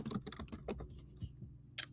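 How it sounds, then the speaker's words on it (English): Quick, light key clicks on a computer keyboard come in uneven bursts, close and faint in a quiet room, while a price is entered into a sales tracker, with a few isolated taps trailing off at the end. "So let me just type it in the tracker."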